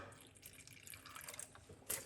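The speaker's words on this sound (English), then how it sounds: "I'm gonna put some water inside of it." About a cup of water pours for a fresh orange, beetroot, lime and ginger juice, giving a soft, steady trickle with a brief louder splash near the end, heard alone and close.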